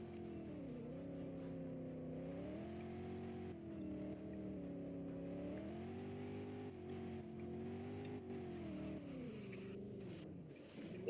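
A Porsche 718 Cayman GT4 RS with traction control off revs on a winding road, its engine note rising and falling continuously through gear changes, loud and close from inside the car.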